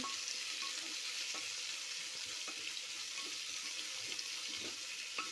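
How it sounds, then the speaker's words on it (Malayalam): Sliced onions fry in a pan for tomato rice, a soft, steady hiss with faint scattered clicks of stirring. It stays fairly quiet throughout, with no talking. "നമ്മൾ സബോള ഇട്ട് കൊടുത്തിട്ടുണ്ട്. നമുക്കൊന്ന് ഇളക്കി വിടാം."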